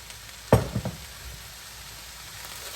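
Fried rice being stirred in a pan with soy sauce: a short cluster of scraping, clattering stirs near the start, then a faint, steady low sizzle with no talking.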